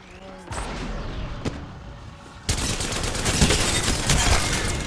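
Rapid bursts of weapon fire ring out in the Apex Legends video game, with a G7 rifle mentioned, sharp repeated shots in short volleys, quieter at first and then a louder, denser barrage through the second half.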